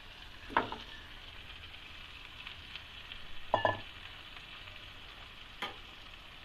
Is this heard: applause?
no